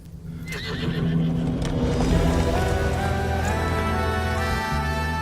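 A horse neighs in a long, loud, close whinny that rises and trails off, with other tonal sound layered underneath.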